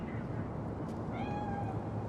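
A cat meows once within Cyberpunk 2077 gameplay, a short, clear cry rising over a steady low background hum.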